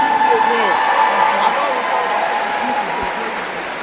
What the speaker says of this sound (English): One more round of applause for our amazing students and music staff.